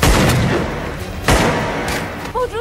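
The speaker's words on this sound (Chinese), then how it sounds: "日本人发现了几个孩子，他们直接开枪" Japanese soldiers open fire on children in a wartime street, heard as a few sharp, loud bangs with a rumbling tail over a noisy background, and a brief voice near the end.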